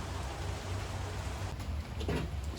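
Steady rain falls outdoors in a home garage work area during a custom build on a 1936 Chevy coupe, a dense, even hiss of drops on surfaces with a few louder splatters near the end.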